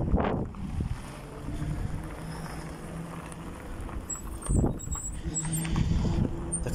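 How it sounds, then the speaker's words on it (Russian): Wind gusting outdoors, a steady low rumbling rush with two louder buffeting surges against the microphone. "сейчас просто ветер."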